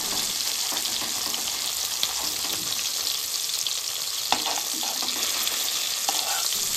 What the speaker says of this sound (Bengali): লেজা ভাজার সময় গ্যাসের ফ্লেম মিডিয়াম আঁচে রাখতে হবে, তাহলে লেজার ভেতরটা খুব সুন্দরভাবে ভাজা হবে